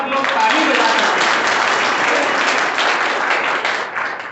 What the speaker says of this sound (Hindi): सब लोग ताली बजा करके